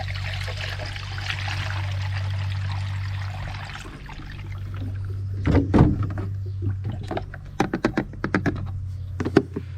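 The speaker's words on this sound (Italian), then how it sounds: "Sento che ora si è svuotata e continuo a caricare acqua." Water sloshes and pours steadily into the coolant tank of a Td5 engine under a low hum, then gives way to scattered gurgles and splashes near the end.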